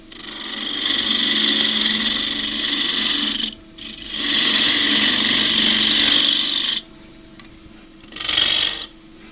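A 1/2 inch spindle gouge roughs down a Tasmanian blackwood bowl spinning on a lathe, loud hissing scraping cuts in three long passes and a short final one, separated by brief pauses with the lathe humming faintly.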